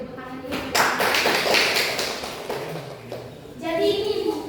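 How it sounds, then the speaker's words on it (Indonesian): Applause in a classroom of students, a dense patter of clapping rising and falling over a few seconds with children's voices chattering over it. "boleh kasih tepuk tangan dulu"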